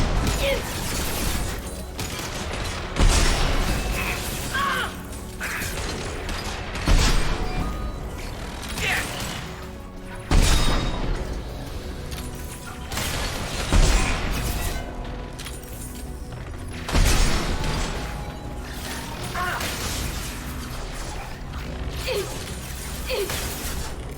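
Gunfire and combat impacts from the Mass Effect Legendary Edition shooter come in repeated heavy bursts and crashes every few seconds, loud and close, with mechanical clatter and some game voices in between.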